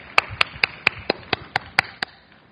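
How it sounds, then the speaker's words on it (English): Slow, evenly spaced claps at a speech event, about nine crisp, close hand claps in a steady rhythm. They sound like one or a few people rather than a full crowd, against a quiet room. "Let's give them a nice round of applause."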